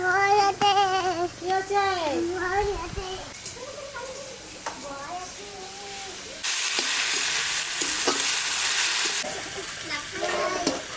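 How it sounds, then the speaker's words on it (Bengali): Onions frying with salt in a pan for a mutton dish: people talk, including a higher voice, over a soft background sizzle, then a loud hissing burst of frying erupts for a few seconds before easing back. "পেঁয়াজের মধ্যে আর একটু লবণ দেবো, তাহলে পেঁয়াজটা তাড়াতাড়ি ভাজা হয়ে যাবে"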